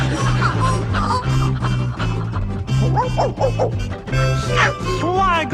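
Dogs bark and yip in a playful Muppet song, with several dogs including an Irish setter. Short barks and whimpers ride over a sung melody with bouncy accompaniment, and laughter-like yelps surface near the end.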